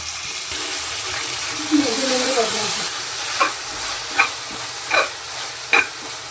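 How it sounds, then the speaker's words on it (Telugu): Tomato pieces sizzle and fry in a pan for an alu kurma. A steady hiss is broken by several soft scraping stirs, and a voice speaks briefly over the cooking. "టమాటా ముక్కలు వేసి మెత్తగా అయ్యేంత వరకు ఉడికించాలి."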